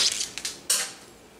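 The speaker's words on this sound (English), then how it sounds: "Let's give this a good stir real quick just to make sure." A spoon stirs ice water in a container, giving a few quick bright clinks and rattling scrapes of ice, close and fairly loud, with no talk.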